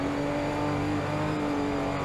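Strained engine drone of a Porsche rally car climbing a slight desert incline in Dakar Desert Rally, a steady labouring hum with sustained tones, close and loud without a voice over it.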